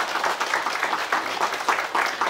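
An audience at a Korean lifelong-learning festival ceremony gives a steady round of applause, many hands clapping together in a dense, even wash of sound.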